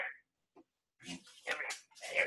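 A small dog growls and grumbles in the background of a room, a few short rough bursts separated by brief silences, fairly close and moderately loud.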